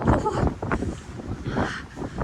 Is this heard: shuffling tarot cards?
no